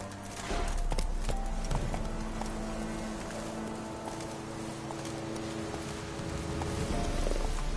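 Roach, a horse in a video game, galloping with a steady rapid clip-clop of hooves throughout, amid faint rustling and ambient sound.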